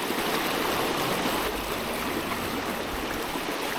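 Fast water rushes through Big Hunting Creek, a wild trout stream in central Maryland, a steady, close, broadband hiss and gurgle with no voices over it.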